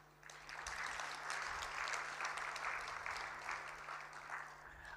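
An audience at a budget review dinner session breaks into a sustained round of applause, dense clapping that swells quickly, holds steady and begins to thin toward the end, heard from within the room.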